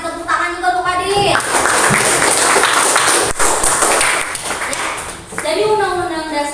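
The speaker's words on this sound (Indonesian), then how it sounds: "Kita kasih tepuk tangan juga untuk Pak Dil" Pupils in a classroom break into a sustained round of applause for a classmate, a dense clatter of claps between stretches of a voice.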